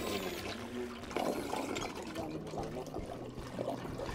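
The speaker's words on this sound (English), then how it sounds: "that's the sound of someone drowning in the toilet" Gurgling, sloshing water from a toilet in the Ghostbusters video game, a continuous noisy churn with bubbling bursts, moderately loud with no talking.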